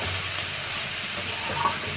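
Fish coated in ginger-garlic paste is stirred in a frying pan with onion stalks, giving a steady close sizzle and hiss with a couple of brief scraping clinks, no talking.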